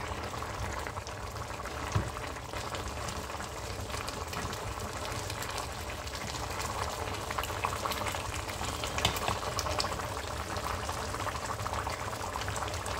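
Shrimp simmer in a thick saka saka sauce with smoked fish, a continuous close bubbling boil that stays even and moderately quiet without pause.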